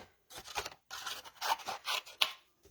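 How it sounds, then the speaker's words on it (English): Scissors snip through paper while fussy cutting roses, a close run of short crisp cutting strokes in uneven bursts with brief pauses between them, no voices. "We're just going to fussy cut them."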